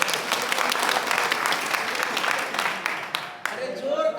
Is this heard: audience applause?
yes